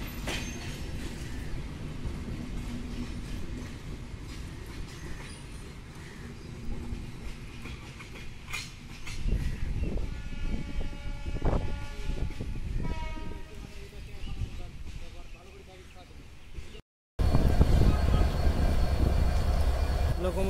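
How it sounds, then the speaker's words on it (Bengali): Locomotive 6541 hauling the 804 Down Banglabandha train rumbles into Parbatipur railway junction with a steady heavy roll and scattered clanks. The sound drops out briefly near the end, then returns louder and closer. "লোকোমোটিভ 6541 নিয়ে 804 ডাউন বাংলাবান্ধা পার্বতীপুর প্রবেশ করছে"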